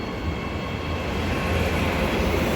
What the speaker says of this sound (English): EMU 57 and 96, I believe, departing platform number 1 for a Perth service.